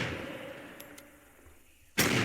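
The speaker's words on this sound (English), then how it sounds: "Interesting shooting sound." A single sharp, loud report from the spectral Lynx rifle, a bayonet-fitted weapon in a Wild West video game during a Halloween event, bursting in at the end after a stretch of quiet ambient background.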